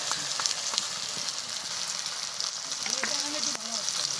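A ground spice paste sizzles in a pan of fried onions while cooking potol chingri, a steady close crackling hiss with occasional stirring scrapes and no talk.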